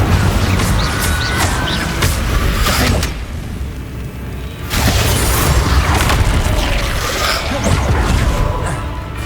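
Hogwarts Legacy combat with spells cast in quick succession and booming magical explosions, dense and loud throughout with crashes and impacts and a brief lull midway before the barrage resumes.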